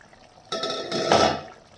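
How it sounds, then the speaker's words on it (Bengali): Lid lifted off a pot of papaya mutton curry, a short metallic clatter followed by a brief hiss of steam and simmering, close and alone. "আমি 5 মিনিট পরে ঢাকনাটা খুলছি"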